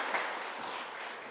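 Congregation at Uijeongbu First Church's Christmas service applauding to welcome newly baptized children, a steady wash of clapping held at an even, moderate level throughout.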